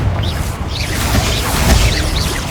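Confringo blasting spell in Hogwarts Legacy, a loud, dense crackling explosion with booming low rumble and whooshing streaks of fire sustained through the burst.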